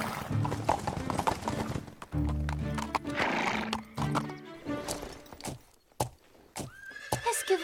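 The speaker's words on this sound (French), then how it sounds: "Viens vite, regarde les petits chevaux!" Cartoon horses and foals whinnying and neighing repeatedly, mixed with quick clip-clopping hoofbeats, lively and close, with a brief voice in between.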